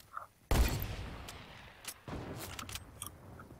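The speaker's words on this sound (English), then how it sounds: "I'm just getting shot at" Gunfire in a sniper shootout video game comes as a sudden loud shot followed by a rolling rumble and scattered lighter cracks and clicks, close and with no talk.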